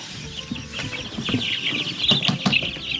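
Young chicks on a farm peep in a steady high-pitched chorus, with scattered soft clucks close by and no talking.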